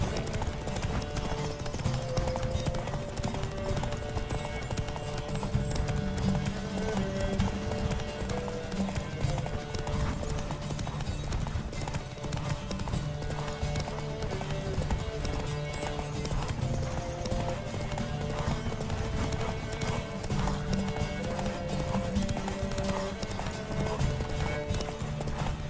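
Continuous rapid hoofbeats of a galloping horse in The Witcher 3: Wild Hunt over a busy, layered game soundtrack, loud and unbroken throughout.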